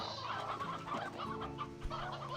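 Chickens cluck steadily in the Slime Rancher 2 video game, with several hens overlapping in a busy, continuous farmyard chorus at moderate level and no talk.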